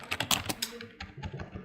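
Quick, irregular keystrokes on a computer keyboard, close and fairly soft, tapping in short bursts with brief gaps.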